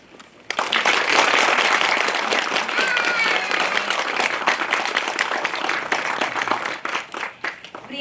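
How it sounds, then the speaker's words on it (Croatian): Parents applaud at a kindergarten end-of-year performance for the Točkice group, a dense, sustained round of clapping that starts abruptly and carries on steadily for several seconds, gradually thinning toward the end. "I molimo jednim pljeskom ohrabrite naše točkice."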